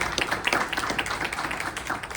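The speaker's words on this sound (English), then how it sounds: "Round of applause." Applause from an audience at an event, a brief patter of scattered claps that starts lively and thins out toward the end.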